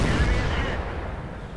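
An IS-3 heavy tank's cannon fires in World of Tanks: a loud, close, deep boom that rolls into a rumbling decay lasting over a second.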